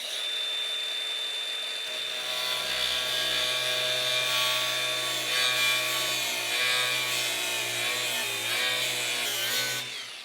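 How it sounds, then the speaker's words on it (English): An angle grinder cuts out a circle from metal, giving a continuous harsh, high whine with a low rumble that rises after a couple of seconds and carries on steadily until the end. "the best option I have for cutting out this circle is the grinder"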